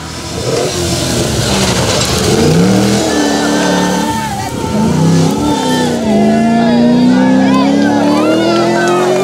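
A rally car on a classic rally stage road revs and accelerates hard, its engine note climbing through gears, loud and close, with a narrator's voice running over the top and a crowd faintly present.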